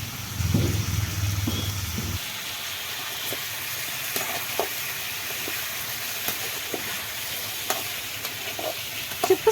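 Chips fry in hot oil with a steady soft sizzle and scattered crackles and pops; a louder low rumbling noise sits under the sizzle for the first couple of seconds, then the frying carries on alone.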